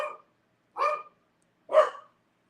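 Three separate dog barks, evenly spaced about a second apart, clear and fairly close against silence.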